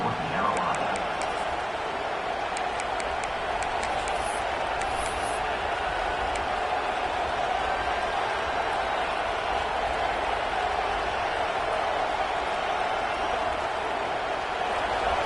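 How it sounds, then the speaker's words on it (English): Steady stadium crowd roar from a college football video game, Iowa against North Carolina, a constant broad wash of cheering and noise holding at an even level throughout with no clear speech. "This crowd trying to make life miserable for this offense."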